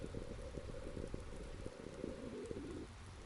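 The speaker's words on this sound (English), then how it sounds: "The quiet days watching the rainfall." Steady rainfall patters on surfaces with scattered distinct drops, a continuous close wash of rain with no voices.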